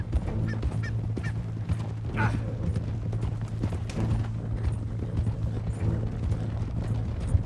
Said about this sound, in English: can hear the horse sound effects differently up close in first person